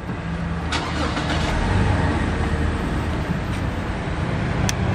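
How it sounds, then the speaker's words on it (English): A 2018 Toyota Land Cruiser Prado is started with its push button, and the engine settles into a steady idle that runs through the whole stretch, with no talking. "With that smart key access, this Prado does have push button start."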